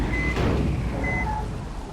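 A bus reverses in heavy traffic on a Kashmir road, its backup alarm sounding three short, steady, mid-loud beeps spaced evenly over the rumble of idling engines.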